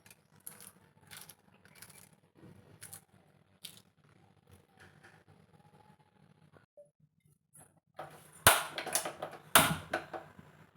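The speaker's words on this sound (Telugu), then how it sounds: "కొన్ని పచ్చిమిర్చి కట్ చేస్తున్నానండి" A knife chops green chillies in a home kitchen: sparse, quiet taps at first, then a few louder, sharper cutting knocks near the end, with no speech.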